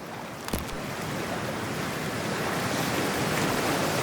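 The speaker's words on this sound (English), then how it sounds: "Freezing-ass water, here I come." Ocean waves and water in Cyberpunk 2077 make a steady, close surf wash with a brief splash near the start and no talking.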